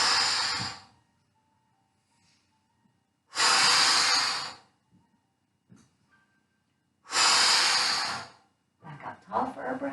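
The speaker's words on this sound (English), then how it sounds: "Using the Pilates breath, blow out through your pursed lips." Three strong, forceful exhales blown through pursed lips during a Pilates-style chair yoga workout, each a broad airy rush lasting over a second, spaced a few seconds apart with quiet gaps, followed by softer breathy sounds.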